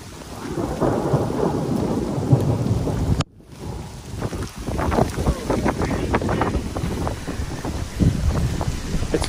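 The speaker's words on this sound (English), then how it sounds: "It's fully raining now." Heavy rain pours and thunder rumbles during a road trip in Utah, with wind buffeting the microphone; a dense continuous wash of rain and low rolling rumble, briefly cut by a dropout before the downpour resumes just as loud.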